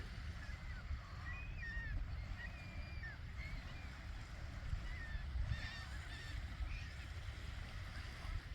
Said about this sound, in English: The gulls make